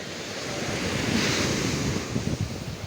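Waves break on a rough sea at a sandy beach, a loud continuous roaring wash with wind buffeting the microphone, swelling and receding without any voices.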